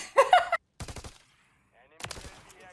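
Gun bursts in Call of Duty: a loud rapid volley of shots up front, then two more clipped bursts after short gaps, with a trailing reverberant tail.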